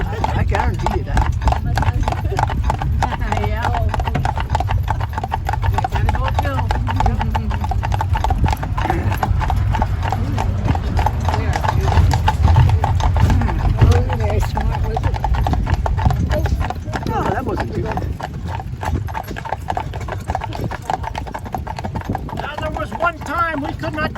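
Horse hooves clip-clop steadily as a horse pulls an Amish buggy along a road in Intercourse, Lancaster County, Pennsylvania, with continuous low rumble of wheels and people talking throughout.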